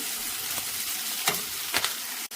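Sliced onion and tomatoes sauté in a pan with a steady, dense sizzle, broken by a few brief stirring scrapes and clicks, close up and with no voices.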